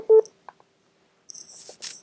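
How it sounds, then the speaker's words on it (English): Dialing tone from the turboDial phone software after the call button is pressed: a short tone burst, a couple of faint blips, then a louder stretch of connecting sound near the end. "and I hit the call button again."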